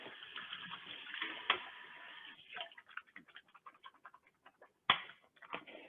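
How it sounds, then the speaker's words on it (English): Hands rinsed under a running kitchen tap, a close, quiet hiss of flowing water broken by small splashes and two sharp knocks, fading into intermittent dribbling toward the end. "now let me rinse off my hands"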